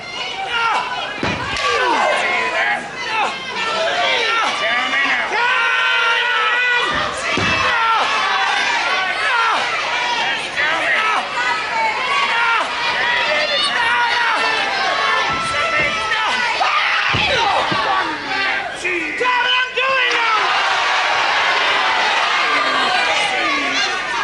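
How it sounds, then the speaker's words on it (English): A 1979 wrestling crowd in a hall, in the Jim Breaks vs Young David bout, roars, shouts and jeers almost without pause, with thuds from the ring. A commentator talks over the din. "Well, you can hear what the crowd think of that."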